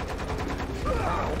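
Gunfire in the video game Lost Planet 2: a dense, continuous rattle of rapid shots with a whooshing sweep near the end, loud and close, with no voice on top.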